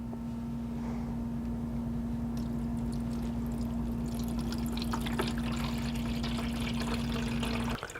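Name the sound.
water poured into AeroGarden reservoir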